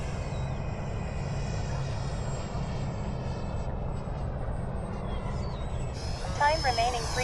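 A radio-controlled model airplane drones steadily through its maiden flight at a field, a thin, faint engine whine carried at a distance and running continuously beneath wind-like background noise.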